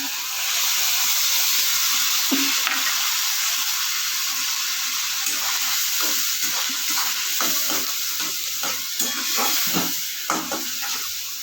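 Tomatoes sizzling and hissing in hot oil for an okra curry, with scraping stirs from a spatula, steady and close throughout.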